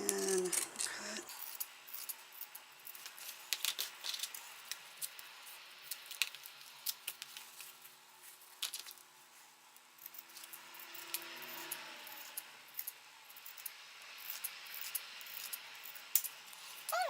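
Pinking shears chew through vinyl for an embroidered zip bag, a long run of crisp, uneven snips and crunching clicks close by, steady throughout with no talk.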